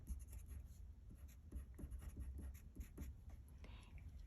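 A pen writes on paper up close, a quiet series of short scratchy strokes with a loose rhythm, faint against a soft background hiss.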